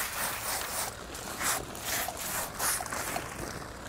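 Hose water spraying down freshly processed rabbits, a soft uneven hiss and splatter in bursts, fairly quiet and close with no talking.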